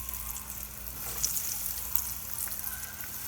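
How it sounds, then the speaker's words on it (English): Sri Lankan style spicy fish cutlets deep frying in hot oil, a steady soft sizzle and crackle with faint bubbling, quiet and close, without talk. "I'm gonna deep fry it."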